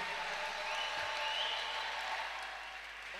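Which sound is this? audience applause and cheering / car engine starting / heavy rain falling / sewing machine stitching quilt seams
audience applause and cheering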